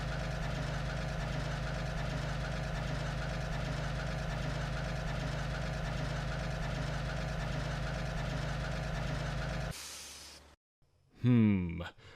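A low, steady diesel locomotive engine rumble from the Trainz train simulator game drones for about ten seconds, then cuts off, followed by a brief burst of a voice.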